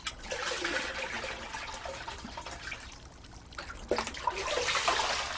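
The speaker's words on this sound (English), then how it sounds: "Sangoro's wife, Chikano, washes the fish salted in spring" Salted fish being washed by hand in water at a rural home in a Japanese satoyama water garden, with continuous sloshing, trickling and splashing nearby and a brief louder splash near the end.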